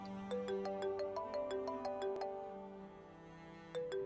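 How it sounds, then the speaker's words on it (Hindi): A phone's melodic ringtone plays in a Pakistani drama scene, a fairly quiet, repeating pattern of bright electronic notes heard alone. "तुम्हारे बाप का फोन होगा।"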